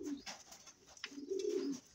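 Racing pigeons in a fancier's loft coo in low, throaty, rolling calls, two or three bursts close by over soft background noise.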